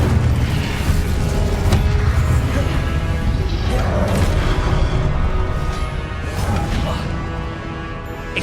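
Incendio fire spell cast in the video game Hogwarts Legacy, booming blasts and crashing impacts layered over continuous loud combat noise and music, with several sharp hits through the stretch.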